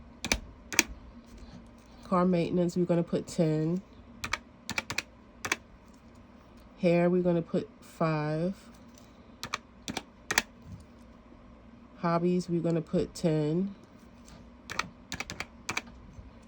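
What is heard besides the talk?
typing numbers on a calculator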